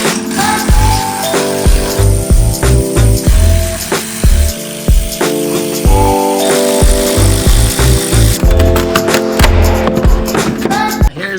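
A cordless power tool whirs in repeated short bursts while removing screws under a carbon fiber part, loud and close, with rattling clicks from the driver between pulses and no speech.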